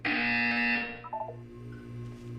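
An electronic buzzer in the game Portal 2, loud and steady at first with a harsh tone, then dropping to a softer sustained hum with a few brief tonal blips over low background noise.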